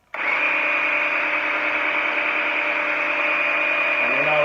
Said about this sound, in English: So this is the noise of it and the speed of it on